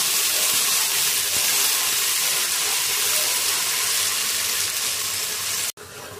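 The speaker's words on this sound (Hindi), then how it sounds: "अब इसमें हम अपना ये प्याज और सरसों का पेस्ट भी ऐड करेंगे।" Onion and mustard paste going into a hot pan for Bengali fish curry, giving a steady, loud broadband sizzle that runs unbroken and then cuts off abruptly near the end.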